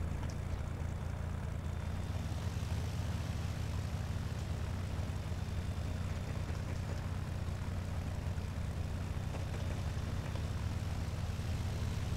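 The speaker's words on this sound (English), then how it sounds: "Gonna taxi on this runway here to the ramp." A propeller aircraft taxis along a runway in the X-Plane 11 flight simulator, its engine giving a steady, unbroken drone from start to finish with no talk.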